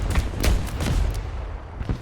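Several sharp revolver shots in Battlefield 2042 crack in quick irregular succession, loud and punchy, with a booming low end.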